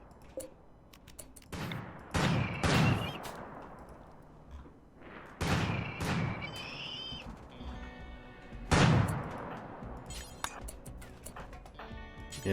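Defense turrets in RimWorld blast at incoming Lancers, giving several loud booming shots spaced a few seconds apart, each followed by a metallic ringing tail. The shots stand alone without talk.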